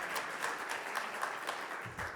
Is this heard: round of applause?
yes